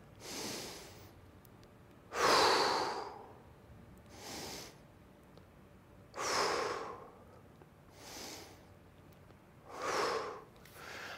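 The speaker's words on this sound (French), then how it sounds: "tu inspires, tu gonfles le ventre, tu souffles, tu rentres le ventre" Slow, deep breathing during a Pilates exercise, with five or six long airy exhales spaced a couple of seconds apart, close and fairly quiet, with soft inhales between them.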